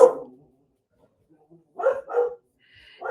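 A dog barks close by, with one bark at the start and then a quick pair of sharp barks, followed by another bark at the end, in a quiet indoor setting.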